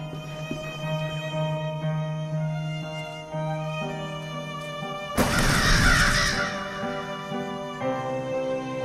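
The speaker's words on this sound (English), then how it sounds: "Those are crows, of course." Crows caw in the video game The Last Door, harsh calls in a short burst midway, set over a steady layered musical backdrop.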